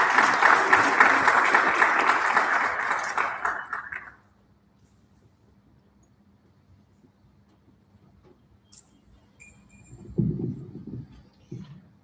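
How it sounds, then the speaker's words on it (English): A launch event audience applauds steadily for about four seconds and then stops, leaving near silence with a few faint clicks and a short burst of low sound. "another round of applause, please"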